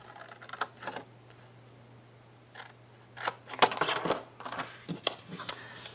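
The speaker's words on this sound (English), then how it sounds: "I'm going to cut along the score lines." Paper cardstock being cut with scissors along score lines for a small card tote box, a few scattered snips early then a busier run of sharp, close cuts and rustles, no voices.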